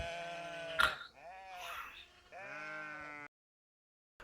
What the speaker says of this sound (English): a shepherd named Tillenoff watched his sheep graze